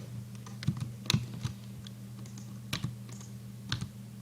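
Computer keyboard keys pressed for Blender shortcuts, a close run of irregular clicks and taps in small clusters over a low steady hum, no voices.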